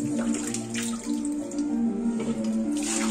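Hot water runs steadily from a tap into a sink for wetting the face before a traditional wet shave, a close, continuous splashing flow with no talking.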